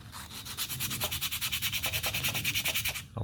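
A wooden swimbait body is sanded by hand with 120 grit sandpaper, giving quick rhythmic rasping strokes at close range, about five to six per second, with no speech.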